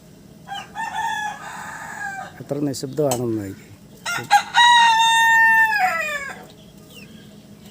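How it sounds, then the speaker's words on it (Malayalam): Chickens cluck and a rooster crows inside a coop holding about twenty birds, with a long, loud crow standing out among the clucking and a person speaking briefly. "ബാക്കി 20 കോഴികൾ ഇതിനകത്തുണ്ട്"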